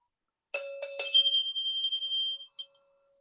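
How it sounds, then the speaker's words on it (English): Bell rung during a live online performance of Macbeth: a few bright, close metallic strikes in quick succession, followed by a sustained ringing tone and one final shorter ring before silence. "The bell invites me."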